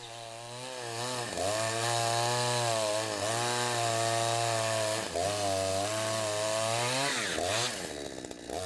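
A chainsaw cutting timber in a production forest, its engine droning loud and close in steady sustained passes, dipping and revving between cuts with no voices over it.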